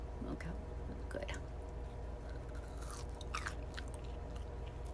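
Close-up chewing of crunchy fried pork fingers dipped in Heinz 57, with quiet crunches and bites over a low steady background hum.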